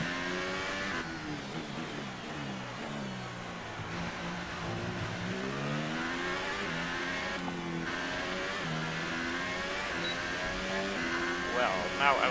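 Formula 1 car engine from the F1 2018 racing game at Australia qualifying, revving hard with rising and falling pitch sweeps as gears shift, loud and continuous throughout with a voice talking over it.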